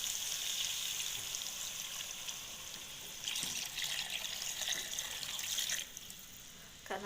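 Coconut milk, freshly pressed from grated coconut, pours steadily into a cooking pot for cassava-leaf gulai, a continuous liquid splash that swells partway through and tapers off, with no talk.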